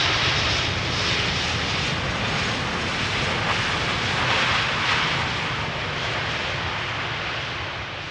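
An airliner descends toward Amsterdam Schiphol Airport, its engines a loud, sustained broadband roar that holds steady for several seconds and fades slightly toward the end.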